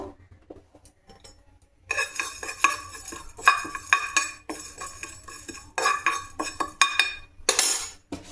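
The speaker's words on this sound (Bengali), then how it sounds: "সবার প্রথমে আগে একটু পাঁচফোড়নকে ড্রাই রোস্ট করে নিচ্ছি, তারপর গুঁড়ো করব।" Panch phoron spices dry roasting in a pan, heard as repeated metallic scraping and clinking of a utensil stirring against the pan, steady and close, with no talk.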